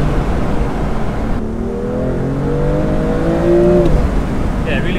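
BMW M2 Competition accelerating hard through the gears, its engine note climbing steadily in pitch as it pulls toward the top end, loud and close with a continuous roar.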